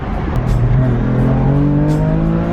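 A stock BMW F80 M3 accelerates hard, its engine note climbing steadily in pitch as it pulls through the revs, loud and close from inside the car with no talking.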